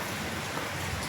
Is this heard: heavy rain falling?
yes